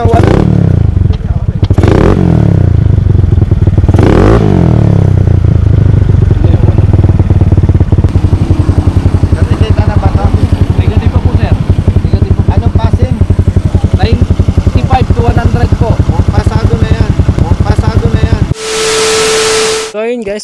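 A loud unmuffled motorcycle engine rattles and revs up close, harsh and raspy throughout, cutting off abruptly into a brief hiss at the end.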